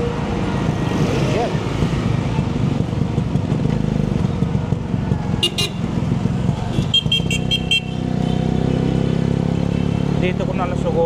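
HD3 125cc motorcycle riding along a street, its engine a steady close drone with passing traffic and brief horn toots, and someone talking over it.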